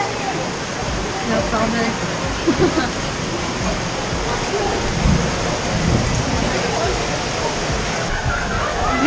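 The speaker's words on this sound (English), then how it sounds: "Pouring rain." Pouring rain at the North Shore of Hawaii hisses steadily and loudly for the whole stretch, a dense, even wash of drops, with faint voices now and then beneath it.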